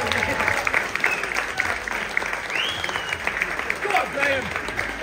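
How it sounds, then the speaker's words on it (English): Audience at a radio-controlled car convention weekend in Blackpool breaks into sustained applause, a dense clapping crowd filling the room with scattered cheers and voices mixed in throughout. "Give a round of applause as Graham eventually gets up here."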